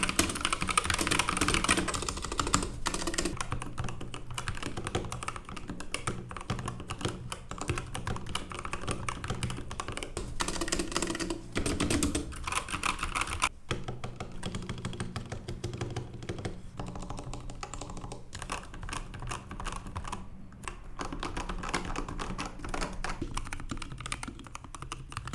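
BlitzWolf KB2 optical keyboard with lubricated keys being typed on, a continuous stream of fast, soft, even keystroke clacks with no voices throughout.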